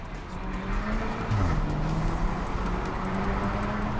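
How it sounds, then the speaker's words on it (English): A Techart-tuned Porsche with an aggressive, angry exhaust note and audible tuned turbo, a steady loud engine drone with shifting tones across four seconds, no talking. "It's just an exhaust. So it sounds aggressive. It sounds angry as well, but it's not crazy. You can hear the turbo as well because we tuned it."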